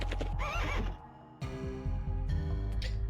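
A horse in the Legend of Dragoon video game gives a loud, close whinny, followed by clopping hooves and creaking game sounds, with no one talking.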